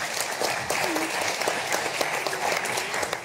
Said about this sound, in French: merci beaucoup Valérie, on peut vous applaudir.